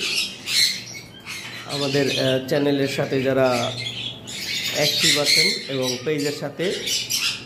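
Cockatiels and English budgerigars kept for breeding squawk repeatedly in sharp harsh bursts close by, while someone talks over the calls.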